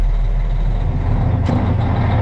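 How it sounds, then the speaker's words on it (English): A semi truck idles after hooking up a trailer, just woken from a quick start. Its engine gives a loud, steady, close low rumble with one brief hiss of air partway through. "Should leave the truck running."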